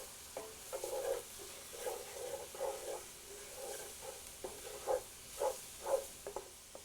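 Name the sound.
vegetables sizzling as they are added to the pan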